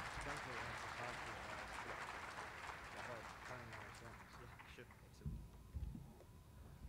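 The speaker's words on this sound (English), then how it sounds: "let's give Santosh a great round of applause" Audience applause at a scientific plenary session after a talk, a dense steady patter of many hands clapping that thins and fades toward the end with a few thumps.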